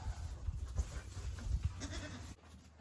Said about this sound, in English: Goats are going crazy.